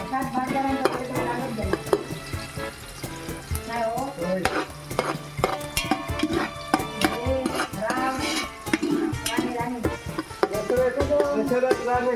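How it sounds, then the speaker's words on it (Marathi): Spices crackle and sizzle as they're tempered in hot oil in a pot, with utensils clinking and stirring throughout, steady and fairly close. "टोपात तेल गरम झाल्यावर आता इकडे ताईन फोडणी देऊक सुरुवात केलेली आहे"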